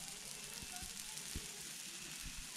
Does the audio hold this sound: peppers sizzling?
yes